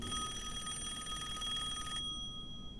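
A telephone bell rings with a bright, continuous metallic trill for about two seconds, loud and close, then cuts off sharply into near silence.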